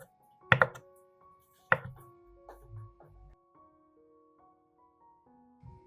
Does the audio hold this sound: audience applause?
no